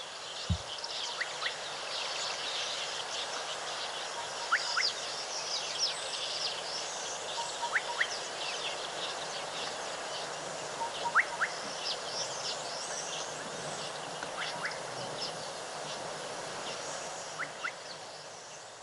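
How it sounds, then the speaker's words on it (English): A gorgeous bushshrike calls outdoors, short clear whistled notes repeated at intervals, faint and distant over a soft hiss of background ambience. "You can hear the call of a very beautiful bird called a gorgeous bushshrike."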